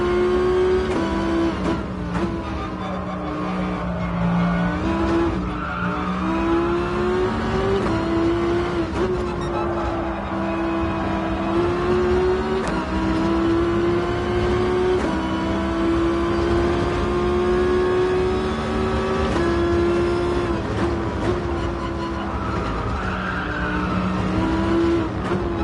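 In Gran Turismo Sport, the DGT GR1T Tomahawk race car's engine drones loudly and continuously, its pitch rising and falling through gear shifts and throttle changes, with faint tire noise and no talk.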